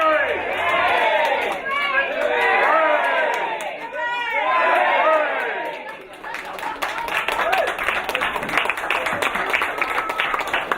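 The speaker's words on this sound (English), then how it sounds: "Thank you for your generous applause and popular shout." Wedding guests burst into loud, dense applause and cheering, first with whooping shouts over the clapping, then steady sustained clapping from a large crowd nearby.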